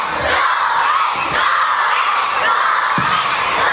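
Primary school children at Sir Clifford Campbell Primary in Savanna la Mar cheer and scream together, a loud, dense burst of high-pitched shouting that swells in waves.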